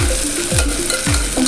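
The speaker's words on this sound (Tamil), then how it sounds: "அதனால் இப்போ இந்த வெங்காயத்தை நல்லா வதக்க போகிறேன்." Onions with ginger and garlic sautéing in a pan for a home-style quail gravy, a steady sizzle broken by a few scraping stirs, close up and with no talking.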